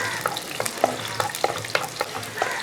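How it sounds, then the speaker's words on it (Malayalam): Chopped garlic stirred and frying in a pan while a sardine curry is being made, with a bright sizzle under a series of distinct scraping clicks from the spoon in a quick, uneven rhythm, close and clear with no voices. "ആ വെളുത്തുള്ളി ആദ്യം അങ്ങോട്ട് ഇട്ട് കൊടുക്കുക ഇന്ന് ഇളക്കി കൊടുക്കുക"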